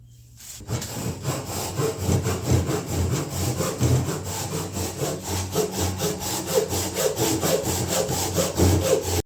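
Bandsaw cutting wooden table legs for a patio table, a steady loud close rasping buzz with rhythmic pulsing as the blade bites through the wood, continuous until the cut ends, no talking.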